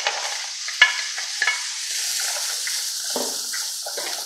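Frozen okra hits a hot pan and sizzles steadily while a utensil scrapes and stirs through it in short, repeated strokes, close and fairly loud.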